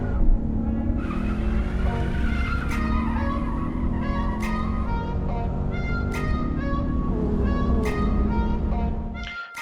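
1:64 diecast cars racing down a track, a continuous rolling rumble of small plastic wheels with repeated sharp clicks and ticks as the cars pass joints, steady and close, no voices.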